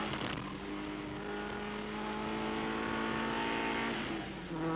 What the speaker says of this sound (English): BMW M3's running on unleaded fuel. And going very strongly indeed.